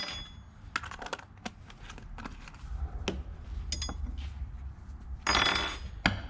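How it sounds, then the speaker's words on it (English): Glitter flake being stirred into liquid soft plastic in a cup, giving scattered light clinks and scraping taps at an uneven rhythm, close and fairly quiet, with a brief louder rattle near the end. "Then we just stir it in."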